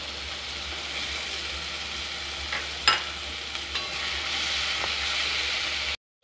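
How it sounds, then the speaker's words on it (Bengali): Chopped tomato and green chilli with cumin, garlic and ginger paste fry in a pan for a potato and okra curry. A soft, even sizzle hisses throughout, broken by a couple of sharp spoon clinks and a brief scrape near the end. "মশলাটা ভালো করে ভেজে নিতে হবে"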